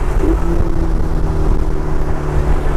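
A rented Ferrari supercar engine runs loud and close, with a sustained growling drone and a steady rising tone, no speech over it.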